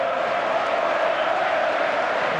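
A large FIFA 15 video game stadium crowd roars and applauds in a steady, distant wash of noise with no clear voices standing out.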